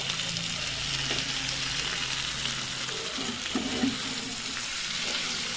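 Raw green tomato charchari fries in a pan, with a steady soft sizzle and occasional scraping stir strokes over a constant hiss.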